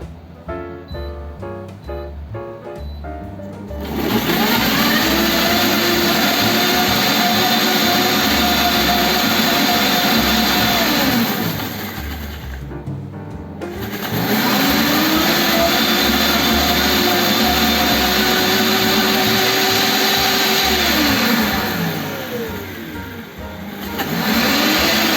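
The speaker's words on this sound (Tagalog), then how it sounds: "ilagay na natin sa blender." An electric blender purees mango flesh in two long runs, each whirring up to a loud, steady motor whine and then spinning down, with a short pause between them and no talk.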